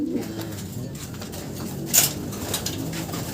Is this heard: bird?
yes